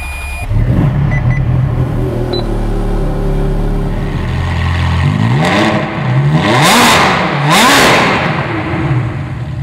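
A sports car, a Ferrari Scuderia, cranks and fires after a button start, settling briefly before several sharp rising revs in quick succession, loud and close.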